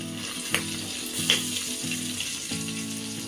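Chopped onion sautés in a hot pan while ghee rice is being made, giving a steady close sizzle with a few soft stirring knocks and a low periodic hum underneath.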